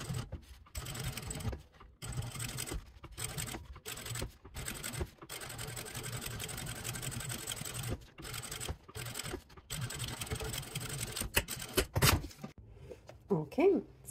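A sewing machine top stitches around a zippered cosmetic pouch in quick bursts separated by short pauses. Each run is near and steady, and a voice talks over parts of the stitching.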